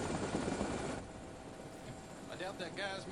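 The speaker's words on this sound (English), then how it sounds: "here's the helicopter." A helicopter in the video game Dead Rising gives a steady, close roar of engine and rotor. It is loudest at first, then settles into a continuous drone, with faint background voices.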